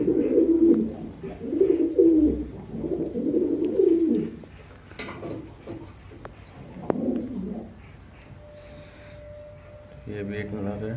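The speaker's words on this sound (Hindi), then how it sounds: "दुम चीर कबूतर" Tail-split pigeons coo in deep, rolling, repeated calls close by, with people talking over them and a brief high tone near the end.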